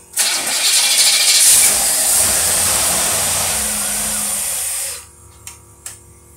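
A carbureted engine with a Rochester two-barrel carburetor cranks and fires, then runs at a loud, steady, slightly low idle for about five seconds before shutting off, leaving a couple of faint knocks.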